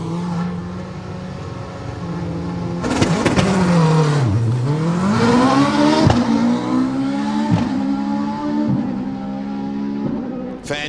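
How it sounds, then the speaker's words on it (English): A Subaru race car launches hard off the start line at a Queensland Raceway event, its engine revving and rising through gears up close, loud and continuous, with sharp gear-change dips and faint voices in the background. "have a look at this thing take off with Dean Ty here on the start"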